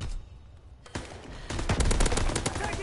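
Machine gun fire from Call of Duty WW2 gameplay rattles in rapid, dense bursts, loud and close, building into a sustained volley toward the end.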